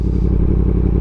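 A motorcycle idles with no throttle or clutch input, its engine chugging in a steady low, loud rumble of rapid even pulses, close by and heard alone.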